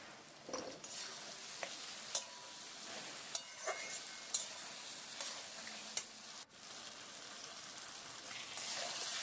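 Banana flower curry with turmeric and salt being stir-fried, a soft steady sizzle with repeated spatula scrapes and taps against the pan.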